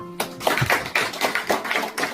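An audience at a Korean clan association's youth group launch ceremony claps together, a series of crisp, rhythmic bursts of applause at moderate loudness with no talking.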